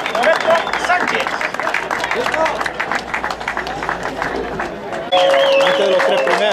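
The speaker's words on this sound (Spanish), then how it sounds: "Y el aplauso que le damos a ese podium" A crowd at a hill climb race applauds the podium finishers, scattered clapping running under a voice over a loudspeaker, with crowd chatter around it.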